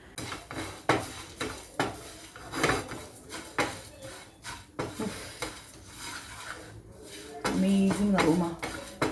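Chicken being mixed with red chili and turmeric powder in a metal vessel, with repeated clattering scrapes and knocks of utensil on dish, uneven bursts, and a voice talking over part of it.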